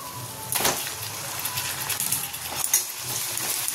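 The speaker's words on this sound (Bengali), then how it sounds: "এবার এর মধ্যে কচু শাকটা দিয়ে দিই।" Boiled, drained taro greens dropped into hot oil and fried spices in a pan give a steady low sizzle, with a couple of brief clinks and stirring scrapes over it.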